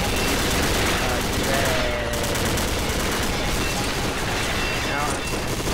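Rapid gunfire from a weapon in the online shooter Combat Arms, a dense continuous volley of shots filling the whole stretch at steady loudness, with speech-like game chatter mixed in.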